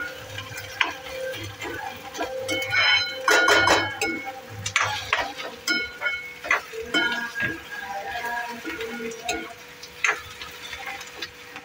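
Onion being sautéed and stirred in a pan for chicken chilli: steady frying sizzle with repeated spoon scrapes and clinks against the pan, fairly close, with no talk.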